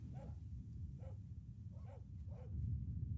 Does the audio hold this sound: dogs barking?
yes